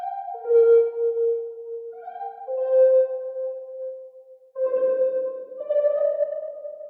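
A bright FL Studio synth lead preset plays a slow melody of sustained, gliding notes with a slightly distorted edge and a faint echo trailing behind.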